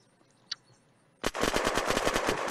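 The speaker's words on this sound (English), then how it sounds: "Spam, I shot him a couple times." Automatic gunfire in the video game Unturned during an arena PvP match: after a near-silent stretch with one faint click, a loud rapid burst of shots starts and keeps rattling evenly to the end.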